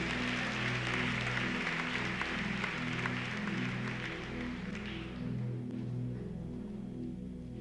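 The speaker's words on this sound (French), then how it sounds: "un bel applaudissement." Audience applause at an evening church service, a broad wash of clapping over sustained low keyboard or organ chords that fades out after about five seconds, leaving the music alone.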